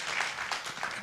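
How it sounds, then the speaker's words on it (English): Audience at an agritech innovation challenge event in Rwanda applauds as a presenter goes to the stage, a short, fairly faint patter of clapping heard from a distance. "A round of applause for Josephine as she goes to the stage."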